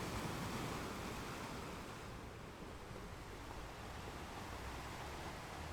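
Sea waves breaking on a shore, a steady dense wash of surf that rolls on without a break, loud and close, with no voices.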